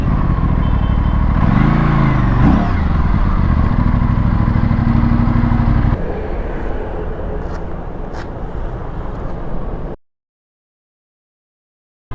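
An Aprilia RS457 motorcycle engine drones steadily and loudly with a brief rev near the start. It settles to a rougher, lower running sound before cutting off into silence.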